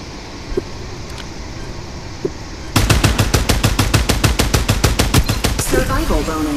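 Rapid automatic gunfire in the shooter game Farlight 84 bursts in after a quiet stretch with a few isolated shots, then rattles on as a fast, even string of loud, close rounds.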